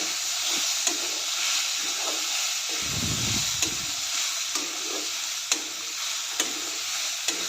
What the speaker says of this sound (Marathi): एक चमचा जिरे टाकते म्हणजे सर्व व्यवस्थित भाजले जातील अजून एक दोन मिनटं भाजून घेऊया